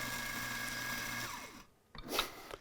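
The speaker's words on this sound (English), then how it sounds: "I'm going to grind a little bit more here so you can take a look at that." A Eureka Atom Touch 65 espresso coffee grinder whirs steadily for over a second at a close, moderate level, then winds down and stops, followed by a few brief clicks and shuffles.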